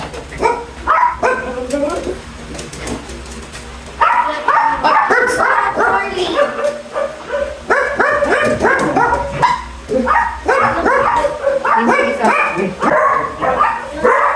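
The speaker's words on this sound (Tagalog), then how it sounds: "Ito yung pinakamatanda naming aso" Several pet dogs at home bark and yip in repeated bursts, loud and close, with a brief pause early on. A person's voice is heard among the barking.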